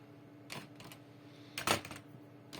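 Keys tapped on a computer keyboard while entering a single word into a search box, a few scattered clicks in short bursts over steady background hum, fairly close and quiet.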